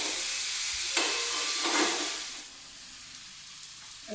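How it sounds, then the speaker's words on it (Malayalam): Onions sauté in a pan for prawn roast, a bright, close sizzle with a stirring scrape that settles into a softer frying hiss. "സവാള നല്ല വഴണ്ടിട്ടുണ്ട്"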